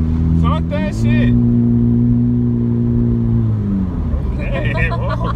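A 2018 Honda Civic Hatchback Sport being driven, its engine humming steadily with a rise in pitch as it accelerates, heard from inside the cabin beneath people talking.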